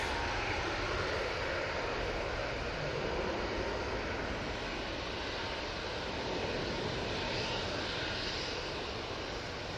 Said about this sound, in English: That's off to Lisbon using the 737 MAX 8.